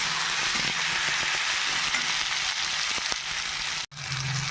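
Steady, dense sizzle of green plantain frying in hot oil, continuous and close, with faint stirring clicks and a brief pause near the end.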